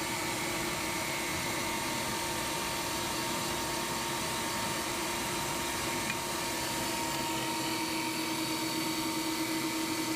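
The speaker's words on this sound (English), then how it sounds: "I'm going to run them through the grinder." An electric food grinder runs continuously on cooked onions for salsa verde, a steady whirring motor hum with a faint whine, close and even throughout, with no talk.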